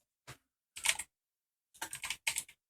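Short bursts of typing on a computer keyboard, a single tap followed by quick clusters of clicking keystrokes separated by silence, close and isolated.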